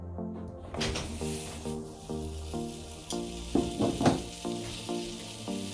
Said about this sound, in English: Garlic can easily burn, so just throw those in to roast